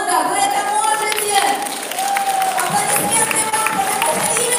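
An audience at a motivational business event applauds, a sustained wash of clapping with crowd noise and some cheering underneath, steady throughout.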